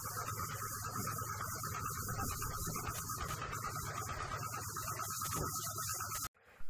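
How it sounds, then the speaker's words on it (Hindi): Continuous rough rubbing of 220-grit waterproof sandpaper across a metal trunk, a steady close scratching hiss in back-and-forth strokes that stops abruptly near the end. "फिर सबसे पहले लेंगे 220 नंबर का रेगमाल वाटरप्रूफ का, और इसके ऊपर लगा लेंगे हल्का फुल्का"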